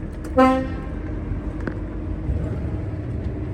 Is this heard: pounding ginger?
no